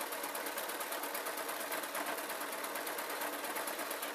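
A sewing machine runs steadily along a tee shirt shoulder seam, its fast, even needle chatter continuous and close throughout, with no talking.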